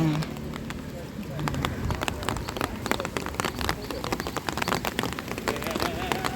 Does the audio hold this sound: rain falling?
yes